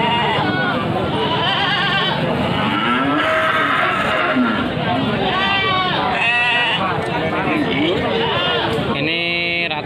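PE goats at a village livestock market bleating loudly and repeatedly, a dense chorus of animal calls mixed with crowd chatter and talking nearby.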